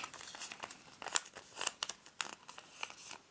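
A sheet of paper being folded along a crease while making a minimalistic origami Santa, with close, quiet crinkles and soft rustling taps in an uneven rhythm.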